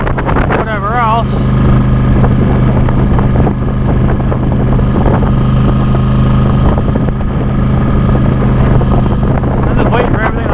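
A four-wheeler engine idling while it warms up, a loud steady low rumble throughout, with someone talking over it.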